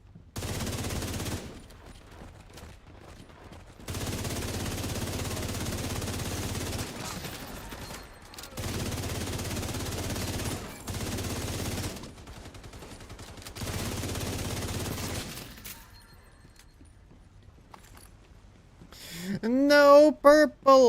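Bursts of gunfire in The Division 2 as a player shoots at an enemy's belt, several sustained volleys separated by short pauses, fairly loud and near, ending with a voice.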